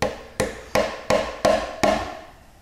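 Six sharp hammer blows at an even pace, each ringing briefly as nails are driven through boards into a wooden piling, the last one fading out.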